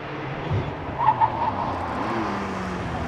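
Porsche 911 GTS pulling away from the start line at the Prescott hill climb, a steady engine drone rising and fading at moderate distance, with a brief sharper burst early on and no talk.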